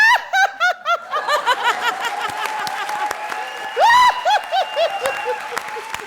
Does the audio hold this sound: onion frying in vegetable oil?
no